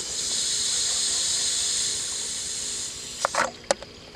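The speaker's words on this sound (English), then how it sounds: "This is priming your pump. So you're letting the water in. Here it comes. Let it into the top." Water rushes into the top of a salt pool pump during priming, a steady hissing flow that fades and ends in a few brief splashy bursts.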